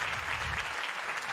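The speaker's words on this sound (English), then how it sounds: "I give him applause." Steady applause from a crowd at a wrestling-themed podcast taping, a dense continuous patter of clapping at even loudness throughout with no voices on top.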